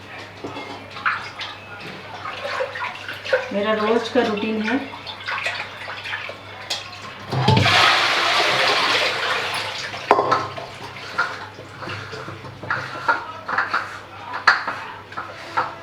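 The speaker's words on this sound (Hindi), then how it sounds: "वो बर्तन रह जाता है, तो मैं रात को आके धोती हूँ।" Dishes and utensils are washed under a running tap in a home kitchen, with a steady rush of water and occasional clinks of pots and cutlery, heaviest in a loud burst midway, under someone talking throughout.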